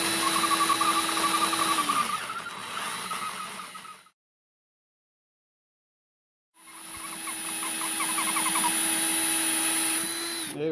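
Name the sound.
drill bit loosening metal part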